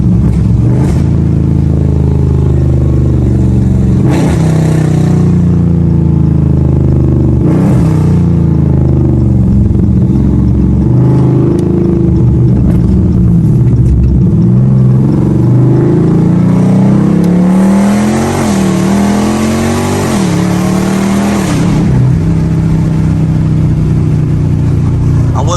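An aftermarket-cammed, freshly tuned SRT car accelerates hard on a drive, heard loud from inside the cabin. The engine note climbs through the revs, drops at a clear gear shift, then builds again over about twenty-five seconds.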